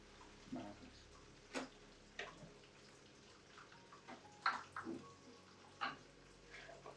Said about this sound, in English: That noise you can hear in the background is a water feature